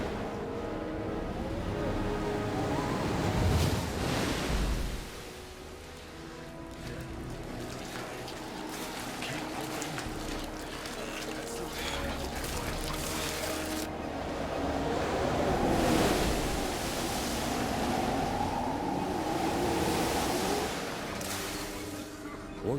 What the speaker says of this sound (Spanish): El mar empezó a levantarse. El viento cada vez soplaba más fuerte